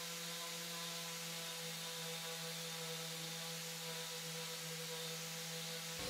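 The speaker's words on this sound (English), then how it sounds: "I even use the orbital round sander for the underlip and to get into tiny areas as well." An orbital sander runs continuously with a steady electric hum and hiss as it works over stained wood, close and unbroken.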